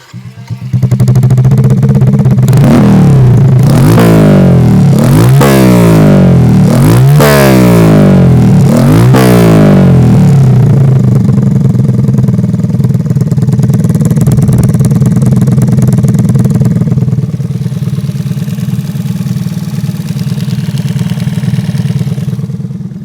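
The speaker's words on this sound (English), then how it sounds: "a fairly quiet 50cc 4-stroke Honda motor. It's definitely got a deep burble thanks to this pipe here" A tiny Honda Magna 50 cruiser with a 50cc four-stroke engine and straight-through pipe starts up close by, blips through several sharp revs, then settles into a steady, deep, burbling idle; no talking.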